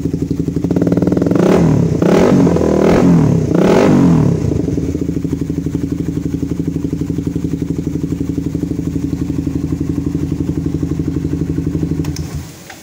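A Suzuki GSX-R 150 motorcycle with a locally made aftermarket exhaust from Purbalingga, Indonesia, barks through several quick revs, then settles into a loud, steady rhythmic idle that cuts off at the end.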